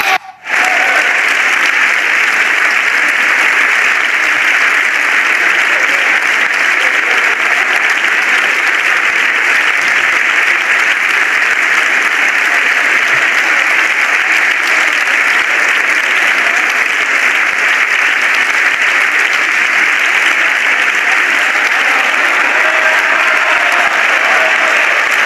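Loud, sustained applause from the benches of the Spanish Congress of Deputies fills the chamber, a dense even roar of many clapping hands that continues steadily without letup.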